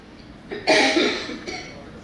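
A single harsh cough bursts out up close, trailing into a rough exhale, followed by a quieter catch of breath.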